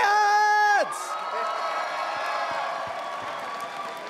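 A BlizzCon esports arena crowd cheers and applauds at the 2018 HGC Finals, a broad steady roar of many voices and clapping that follows a brief loud tonal sound at the start and holds fairly even to the end.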